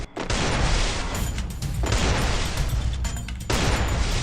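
Video game gunfire, loud continuous bursts of shots and blasts filling the whole stretch with only brief dips, close and harsh.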